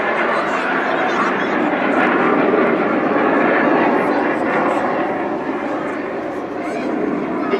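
Aerobatic display jets performing a barrel roll crossover at the Blackpool Airshow, a broad roaring engine wash that swells and holds loud throughout, with an announcer speaking over it.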